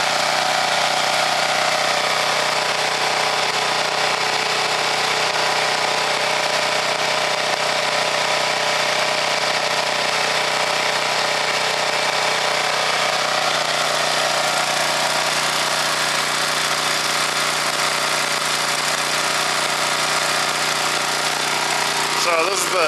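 A Champion 9000W dual fuel generator runs on propane during break-in, a loud steady engine drone with a buzzing mechanical hum that holds constant throughout, with no talking.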